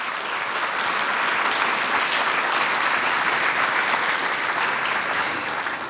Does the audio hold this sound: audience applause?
yes